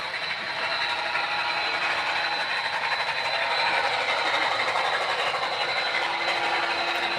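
A model train, locomotive 611, runs along a home layout with a continuous, steady rolling whir and faint wheel clatter on track, close by and unbroken, with no voices.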